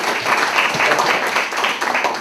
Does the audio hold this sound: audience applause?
yes